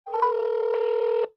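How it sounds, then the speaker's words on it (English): A phone dialing a Twilio number gives off a short, clean, steady DTMF touch-tone beep about a second long. It is loud and close, with no talking. "Let me call the Twilio phone number."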